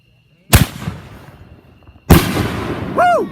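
Two loud firework blasts boom a second and a half apart, each leaving a crackling tail, and a rising whistle follows the second. A voice cuts in briefly.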